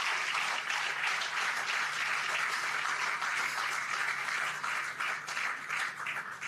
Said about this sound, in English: Would you please give a round of applause for our House of Representatives?